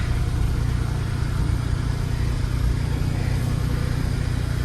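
A Smart Roadster's engine runs with a steady low throb as the car starts moving, close and continuous throughout with no voices.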